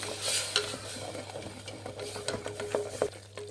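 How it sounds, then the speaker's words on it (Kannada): Ground onion and tomato paste frying and being stirred in a pan for mutton boti gojju, a steady sizzle broken by scraping strokes of a spoon against the pan, fairly close and alone. "ಈಗ ನಾವೇನು ರುಬ್ಬಿದ್ದೋ ಈರುಳ್ಳಿ ಮತ್ತು ಟೊಮೊಟೊ ಅದನ್ನು ಹಾಕ್ಕೊಳ್ಳಿ. ಪೇಸ್ಟ್ ಮಿಕ್ಸ್ ಮಾಡಿ ಫ್ರೈ ಮಾಡಿ ಇದನ್ನು"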